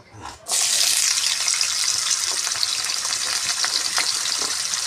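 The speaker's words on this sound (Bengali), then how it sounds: "এবার এই তেলের মধ্যে কেটে রাখা আলুগুলো ভেজে নিয়েছি" Potatoes sizzle in hot oil with a continuous, loud crackling hiss that stays steady from start to finish.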